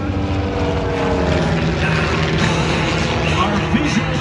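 Propeller airplanes fly a formation barrel roll at an air show in Duluth, their engines droning loud and steady throughout, with a slight swell near the end.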